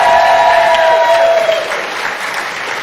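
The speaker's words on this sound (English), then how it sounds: "Can we have another round of applause?" A loud, sustained round of applause fills a room at a horn gathering at the Queensland Conservatorium of Music in Brisbane, with a brief lingering tone early on, then settling into steady clapping.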